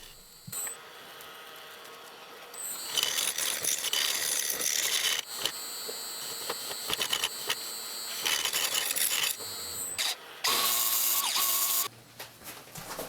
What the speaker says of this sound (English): Here I'm cleaning up the opposite end of the blank to prepare it for gluing the tenon block.